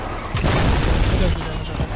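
A booming guided missile explosion in Fortnite lands close and loud, a low rumbling blast under excited player voices.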